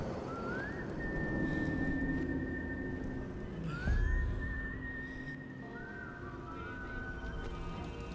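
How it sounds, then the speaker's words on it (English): A character whistles in the video game Far Cry 5, with a few rising, drawn-out tones over a low ambient background, fairly faint, with no talk. "Stop whistling."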